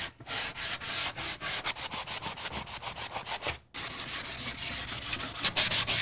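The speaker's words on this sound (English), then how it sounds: "I'm going to do a light sand on the outside edges of this little" Hand sanding along the outside edges of a small wooden sign frame, a close, rhythmic series of rasping back-and-forth strokes with a brief pause near the middle before the strokes resume.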